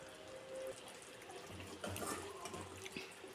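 Cooked chicken broth is strained into a cup, a soft, close trickle and splash of pouring liquid with faint clinks, at a low level.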